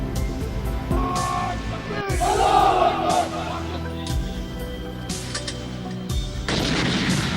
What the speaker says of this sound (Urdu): توپوں کی سلامی سے دن کا آغاز۔